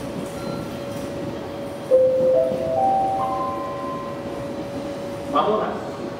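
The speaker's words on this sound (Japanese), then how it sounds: "まもなく4番線に電車が入る" An electric train pulls into Toyohashi Station, a Series 211 set on a deadhead run, with tonal motor whine rising in steps, a brief wheel squeal near the end and a platform announcement voice over it.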